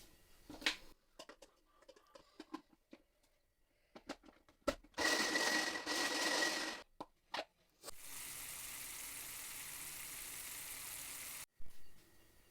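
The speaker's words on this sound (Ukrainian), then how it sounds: "Дві цибулини дрібно подрібнюємо і обсмажуємо на олії до прозорості." Two finely chopped onions frying in oil in a pan, with a few soft clicks and taps, then bursts of bright, steady sizzling that run for several seconds before cutting off.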